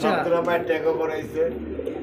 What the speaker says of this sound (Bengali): একজোড়া হাই ফ্লায়ার গিরিবাজ কবুতর